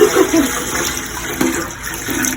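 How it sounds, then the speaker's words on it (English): Toilet flushed using poured unboiled water during a snowstorm, giving a steady rushing, gurgling wash of water close up for a couple of seconds. "we use the unboiled water to put in here so we can flush"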